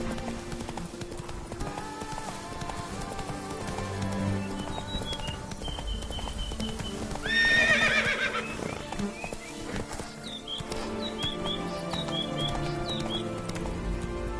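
Roach the horse in The Witcher 3 clops along with steady hoofbeats, breaking into a clear whinny midway over a soft game soundtrack, with faint bird calls near the end.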